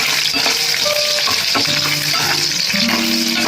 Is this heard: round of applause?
no